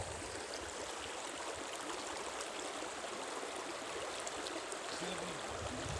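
A river flows steadily with a broad, even rush of water, constant and fairly loud throughout with no voices.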